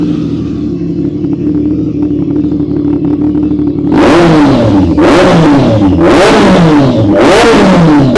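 A Ducati V4S motorcycle idles with a steady, loud exhaust burble, then its engine is blipped through four sharp, throaty revs that climb and fall back, each one roaring close by with a deep bass.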